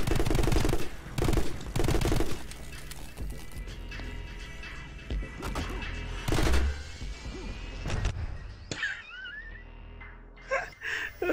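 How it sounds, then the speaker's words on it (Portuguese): Gunfire and explosions from the action video game My Friend Pedro: loud, sharp blasts in quick bursts early on, then scattered shots and rumbling through the rest. "Achei que eu dei um tiro e explodiu"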